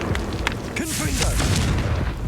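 Confringo spell blast in Hogwarts Legacy, a loud booming burst with a fiery crackling tail, set over a busy, dense game soundscape.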